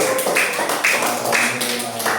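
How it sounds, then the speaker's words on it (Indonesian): Classroom applause for the rice-field ecosystem group, with many hands clapping in a steady, dense patter that fills the room for a couple of seconds. "Beri tepuk tangan yang meriah untuk kelompok ekosistem sawah ini."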